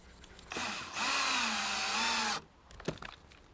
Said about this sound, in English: I've just put screws in to anchor it all around the perimeter and a few in the middle too